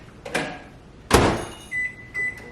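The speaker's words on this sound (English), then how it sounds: "I'm going to pop it in the microwave" A microwave oven door slams shut, followed by a second loud clunk, then two short electronic beeps sound in a quiet room as it is set to defrost frozen milk.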